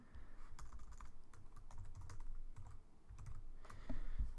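Close-up typing on a computer keyboard during Java coding, with fast irregular clicks and key taps running continuously and a slightly louder keystroke near the end.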